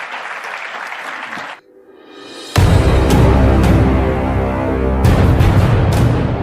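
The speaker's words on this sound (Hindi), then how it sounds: "जोरदार तालियों के साथ स्वागत कीजिए श्री अमित शाह का" An audience claps briefly in welcome for Amit Shah, president of a large political party, before loud, bass-heavy music bursts in and takes over.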